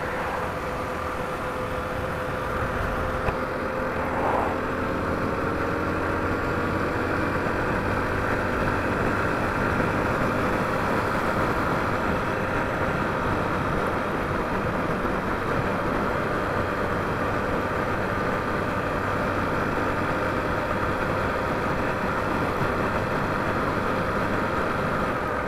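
A motorcycle with a motard setup idles steadily on a group ride, a continuous low engine drone with a faint vibrating hum that holds evenly for about 25 seconds and has no talk over it.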